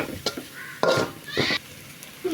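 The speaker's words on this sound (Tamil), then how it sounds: "இது நல்லா வதக்கிக்கலாம்" Intermittent scraping and stirring of chili and coriander powders sautéing in a pan for dried fish curry, over a faint sizzle, several short strokes close by.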